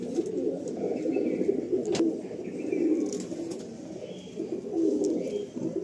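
Pigeons of Andhra and Madrasi breeds cooing in a Kolkata loft, a continuous murmur of soft overlapping coos close by, with a few faint chirps above.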